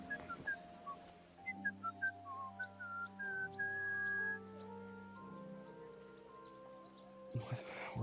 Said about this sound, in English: Were they whistling the Flintstones theme song?